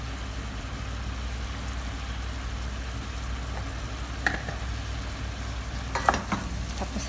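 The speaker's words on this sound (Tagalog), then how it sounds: "Tapos halo-haluin." Chicken feet being stirred as they fry in a pan, a steady close sizzle with a few scraping clicks of the utensil near the end.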